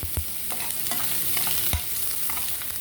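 Onion and green chili fry in a couple of spoons of oil, a close sizzle broken by sharp scraping stirs of a spatula against the pan.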